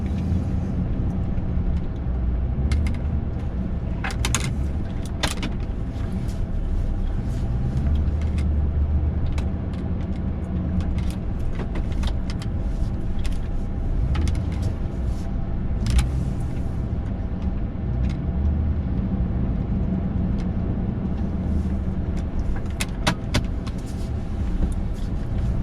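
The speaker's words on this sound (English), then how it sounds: "Get the truck out." A truck engine labors steadily along a washed-out dirt road near Hoist Lake, its continuous rumble loud and close, with scattered rattles, clunks and bumps from the rough surface throughout.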